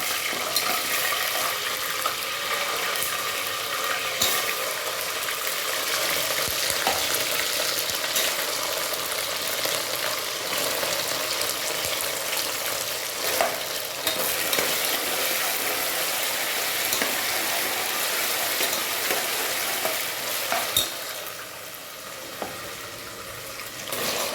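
Ginger garlic paste, tomato and onion frying in a pan for tomato rice, a steady loud sizzle with occasional stirring scrapes running unbroken throughout, no voices.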